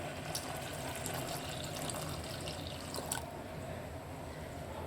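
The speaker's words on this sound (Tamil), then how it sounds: "இந்த ஸ்டேஜில் நம்ம இளநீர் ஊற்றிடலாம்" Tender coconut water poured into a sarbath mixture, heard as a steady close splashing, trickling flow that eases slightly near the end, with no talking.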